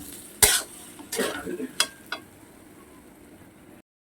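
Mutton pieces going into hot spiced oil for a rezala-style curry, with a few sharp splattering bursts and stirring clatters over a faint sizzle, fading out before the end.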